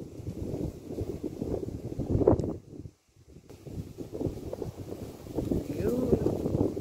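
Gusty wind blowing across an open orchard field after morning rain, buffeting the microphone in a steady rough roar with a brief lull midway, while people talk nearby.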